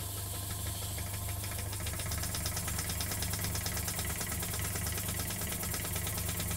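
Small model engine running on air from an airbrush compressor, idling with a steady rapid knocking beat, close and even throughout, with no voices.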